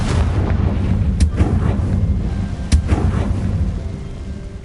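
The Confringo fire spell blasting in the video game Hogwarts Legacy, a rumbling explosive roar with a couple of sharp cracking bursts over a sustained low boom, loud and close.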